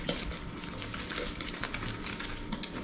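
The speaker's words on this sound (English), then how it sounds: "And just mix it all together until it gets ready to crumble." A spoon stirs flour, sugar, baking powder and egg together in a bowl, a steady soft scraping and patter of the dry mixture, close and fairly quiet with no talk.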